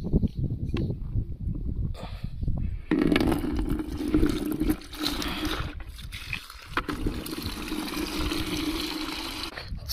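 Water is poured out on a farm for a buffalo to drink, a close, rough gushing and splashing that runs almost continuously with brief lulls.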